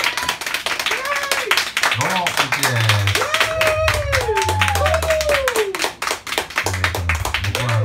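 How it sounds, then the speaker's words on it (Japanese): An audience at a studio music performance claps steadily throughout as a performer takes the stage, with talk and sung or spoken voice over the applause. "もう拍手。"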